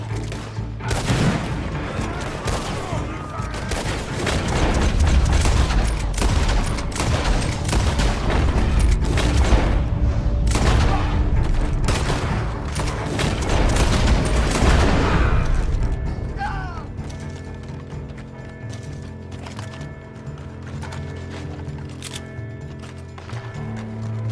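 Gunfire from Red Dead Redemption 2 online play, with dense rapid shots and booms packed together for the first fifteen seconds, then fading to quieter scattered noise and faint voices.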